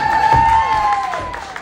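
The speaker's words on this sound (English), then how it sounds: "Big round of applause from DiMaggio" Audience applause and cheering from a crowd after a group countdown, loud and continuous for under two seconds, with a sustained tonal sound running over the noisy clapping.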